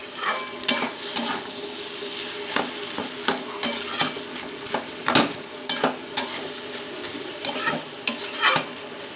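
Bean ghyat with chopped coriander frying and being stirred in a pan, a steady close sizzle broken by repeated scraping strokes of a spatula, with no talking.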